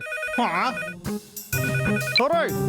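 A cartoon phone ringtone plays with bright, warbling tonal bursts, a short melodic pattern repeating, close and fairly loud.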